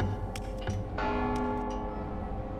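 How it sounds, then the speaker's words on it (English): Bell struck in the stealth video game Mark of the Ninja, several sharp metallic clangs in quick succession leaving a ringing, sustained tone that slowly decays over a low game hum. "see what happens when you ring the bell?"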